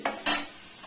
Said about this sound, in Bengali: এবার আমি আলুগুলোকে তুলে নেব।